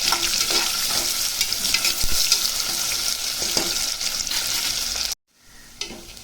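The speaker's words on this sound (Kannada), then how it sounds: "ಈಗ ಈರುಳ್ಳಿ ಕೂಡ ಸೇರಿಸ್ಕೊಂಡು ಸ್ವಲ್ಪ ಕೆಂಪಗೆ ಆಗೋವರೆಗೂ ಹುರ್ಕೊಳ್ಳೋಣ." Chopped onions sizzle and crackle steadily in hot oil in a pan as they fry toward reddish brown, with stirring scrapes, and the sound cuts off abruptly near the end before faint frying resumes.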